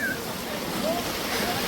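Fast-flowing flood water rushing through a village, a broad steady roar close by, with a voice speaking over it.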